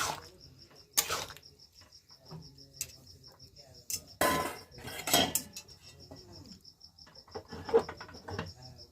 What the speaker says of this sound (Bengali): আমি ভালো করে ডালটার সঙ্গে সমস্ত সবজিগুলোকে ভালো করে মিশিয়ে দিচ্ছি।